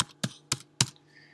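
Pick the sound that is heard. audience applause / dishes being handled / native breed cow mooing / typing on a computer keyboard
typing on a computer keyboard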